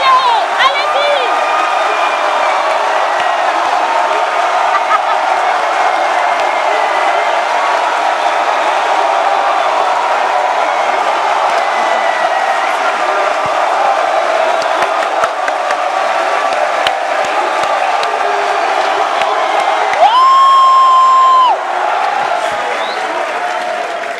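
A studio audience at a French-language comedy show cheers and applauds loudly and continuously, a dense roar of clapping and crowd noise with a brief tonal sound near the end.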